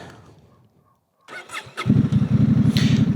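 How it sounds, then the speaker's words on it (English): A motorcycle engine cranks with a brief whirring starter, catches and settles into a steady, close, rumbling idle. "Now let's start the bike and check the lights once again."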